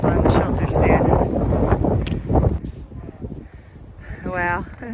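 Strong gusts buffet the microphone on a windy hilltop along a hiking trail at sunset, loud rumbling wind noise throughout, with a voice speaking briefly near the end.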